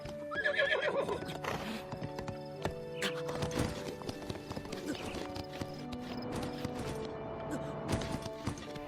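Hooves clip-clop steadily from a horse in a Zelda video game, with a whinnying neigh early on, all over a busy, cluttered game soundscape.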